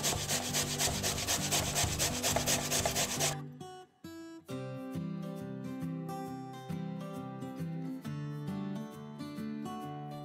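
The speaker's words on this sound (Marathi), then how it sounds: "आता याचा साल काढायचा नाही, आपण असाच धरून हे का किसून घ्यायचा।" Whole unpeeled cucumber rubbed against a grater for Malvani dhondas, giving a quick series of close rhythmic rasping strokes for about three seconds before stopping, with music continuing afterward and no talking.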